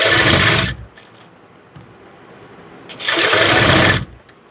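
A sewing machine stitches the front part of a blouse in two short, loud runs of fast whirring separated by a quiet pause, with no talking.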